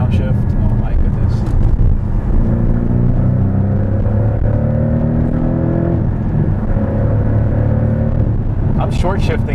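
Porsche Cayman 718 GTS 2.5 engine through heel-toe downshifts, loud close revs climbing and dropping in rising sweeps with a rumbling exhaust, while a person talks over it.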